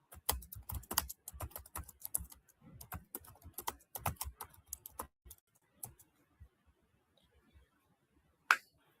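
Typing on a computer keyboard produces crisp key clicks, dense and fast at first, then thinning to scattered taps, with one sharp final click after a pause. No one talks.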